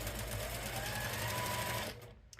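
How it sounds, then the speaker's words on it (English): A sewing machine stitches a fabric zipper pouch in a fast, continuous run, close and loud, stopping abruptly near the end with a couple of faint clicks. "we're just gonna sew right up next to it"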